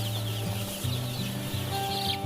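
Many day-old broiler chicks cheep in a busy chorus over a steady low mechanical hum, their high peeps overlapping continuously.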